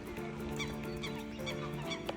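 A goose honking repeatedly in a monkey park enclosure, short nasal calls recurring over steady background noise with a child nearby.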